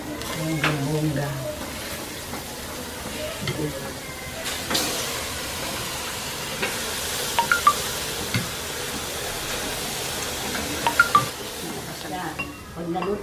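Pork neck cooking in a pan for barbecue-style inihaw gives a steady sizzle and hiss, with scraping and stirring bursts and a few sharp clinks, while a voice talks intermittently over the cooking.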